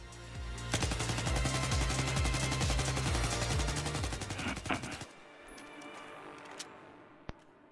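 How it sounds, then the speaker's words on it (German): Sustained automatic gunfire from a CBJ-MS fitted with a heavy barrel in Battlefield 4, a rapid loud burst of shots lasting about four seconds, then scattered fainter reports and a single sharp shot near the end. "Jetzt versuche ich hier mal mit schwerem Lauf auf eine Stelle zu schießen."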